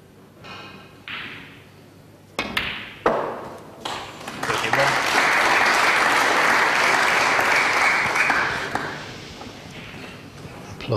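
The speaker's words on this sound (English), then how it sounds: "Applause for frame ball" Snooker crowd applauding a frame-ball pot in a Mark Selby versus Rod Lawler match at the 2013 Paul Hunter Classic, a few sharp knocks first, then a steady swell of clapping that holds for several seconds before fading, with a voice heard over it.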